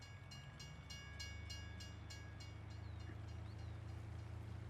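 A train in Farming Simulator 19 rumbles with a steady low engine drone and a rhythmic run of clicks early on, followed by a high tone and faint chirps, all without talk.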